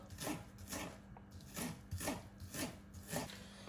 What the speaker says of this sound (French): je vais les hacher en petits morceaux, mais vraiment en rikiki, comme ça